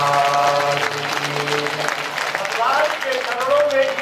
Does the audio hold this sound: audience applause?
yes